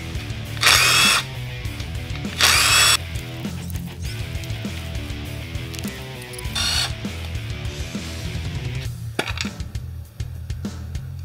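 A power drill or impact driver removing the brake pedal from a Honda 400EX ATV. It gives two loud, close bursts early, then shorter bursts, over a low mechanical hum with no talk.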